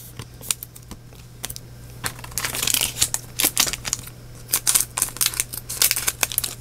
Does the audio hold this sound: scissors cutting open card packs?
yes